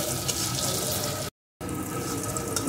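Water pours into a pan of potatoes frying with turmeric and salt, a close, steady rushing splash that cuts out for a moment and then resumes.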